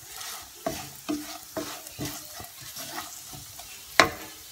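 Green chillies fry in a pan of oil for a garlic curry, with several distinct stirring scrapes and a sharper clank near the end over a steady low sizzle; no talking.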